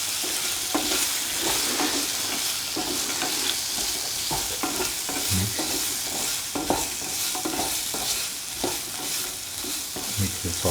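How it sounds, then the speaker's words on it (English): A spoon works salt and fennel powder into a potato mixture for ginger potato stew, giving repeated scraping and knocking strokes over a continuous close frying sizzle, with no voices. "Mix the salt and the fennel powder into the potato mixture."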